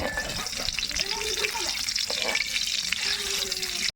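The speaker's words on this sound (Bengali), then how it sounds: "প্রথমে দেবো গোটা গরম মশলা আর ধরো ধরো ধরো আচ্ছা করে ভাজো মশলা" Whole garam masala spices frying in hot oil in a pan, a steady crackling sizzle with scraping stirring sounds, close and continuous, ending abruptly.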